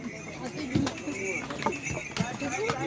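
Horses on the Kedarnath pilgrimage trail at a watering spot, hooves clip-clopping in scattered steps close by, with a whinny amid steady chatter from people nearby.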